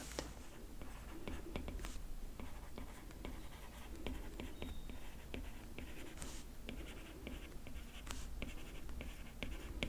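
A stylus writes on an iPad with soft, steady tapping and scratching strokes, close and quiet, in a continuous irregular rhythm with faint breathy sounds in the background.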